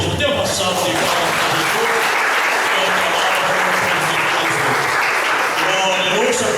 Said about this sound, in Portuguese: Jesus, dê uma salva de palmas